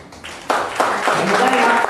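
An audience claps together at a live event, a dense wash of applause that swells abruptly and stays strong, with a voice talking over it.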